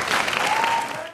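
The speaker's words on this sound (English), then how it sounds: "go ahead and give a round of applause for Fadi" Audience at a university speaking competition applauding a student speaker, a brief dense burst of clapping from a crowd, steady and close.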